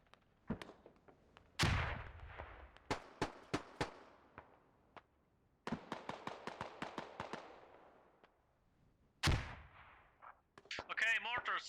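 Mortar and gunfire in the Squad video game, with heavy booming impacts and rapid volleys of sharp shots, some loud and close, others farther off, plus brief radio-like chatter near the end.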